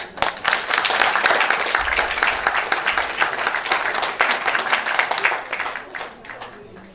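Applause from a conference audience fills the room for several seconds, dense steady clapping that swells near the start and thins toward the end.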